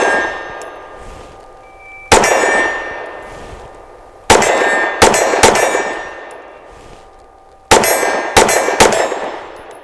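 Five sharp shots from a custom Sig P320 pistol firing Winchester White Box 115 grain ammunition on an outdoor range, loud and close, each with a ringing metallic tail, spaced irregularly in short clusters.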